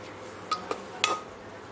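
A spoon scrapes and clinks against a metal pressure cooker while soaked rice, mung dal, peanuts and chickpeas are stirred, giving three sharp, close metallic taps over a quiet background.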